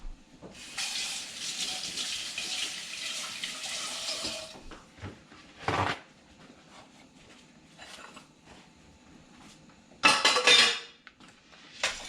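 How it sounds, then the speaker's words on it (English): A fork is rinsed under a running kitchen tap with a steady hiss of water, followed by a short burst, then clinks of metal cutlery against dishes near the end. "rinse my fork"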